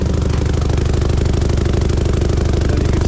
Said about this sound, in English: So this is the machine running